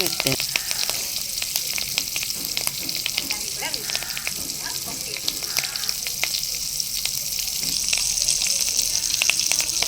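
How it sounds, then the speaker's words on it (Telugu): Cumin seeds and a couple of sprigs of curry leaves fry in hot oil over a low flame for palak paneer, giving a steady, close crackling sizzle with small pops throughout. "రెండు రెబ్బల కరివేపాకు వేసుకుని వేయించుకోండి సిమ్లో"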